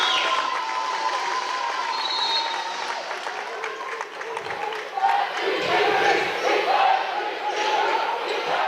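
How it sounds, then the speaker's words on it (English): A crowd at a boys' high school playoff basketball game cheers and claps to urge on the Manitowoc Lutheran team. Ball bounces and sneaker sounds come from the gym floor, and a commentator talks over the noise. "Crowd trying to encourage their team, Manitowoc."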